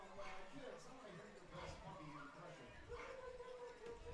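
Small dogs yap and bark in quick, high bursts as a ballpark walk-up track, the recorded yipping playing over crowd noise while announcers talk.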